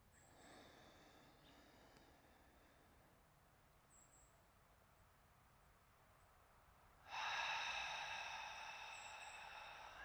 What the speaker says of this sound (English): that active, that audible exhale, like you're fogging up a mirror